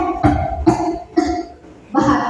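Someone acting out a beggar's cough produces four rough, loud coughs in an uneven sequence, with short pauses between them and the last one the longest.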